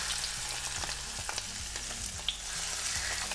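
Chicken sizzling and crackling in oil in a well-heated pan, a dense steady fry with scattered pops and a low background hum, no voices.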